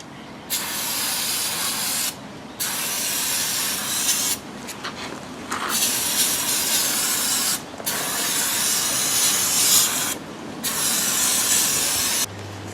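Brake clean is sprayed onto the brakes of a Triumph 2500 in several long, loud hissing bursts separated by short pauses, close up with no talking.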